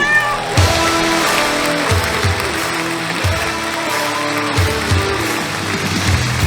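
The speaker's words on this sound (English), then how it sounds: "his kitty assistant, Catmando" A cat assistant named as part of a stage comedy act in a historic Broadway theater meows amid a loud, music-filled room, with scattered applause and audience noise around it.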